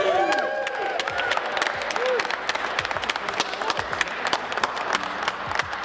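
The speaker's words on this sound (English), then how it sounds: "Let's give a big round of applause." A crowd applauds at a St. Louis city event after a speech about the city's future, with dense clapping throughout and some voices and cheering mixed in.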